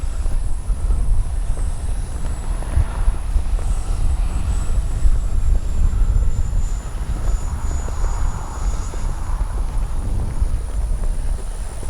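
An XFLY F-35 RC jet holds a steady, loud whooshing drone of its electric ducted fan as it flies, a continuous rushing roar mixed with wind noise that swells slightly and then stays even throughout, with no talking.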